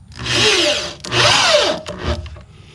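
A power drill with a star bit drives 2-inch star-drive screws into wood for a raised grow box build, giving two long whirring runs that rise and fall in pitch, then a short final burst, loud and close.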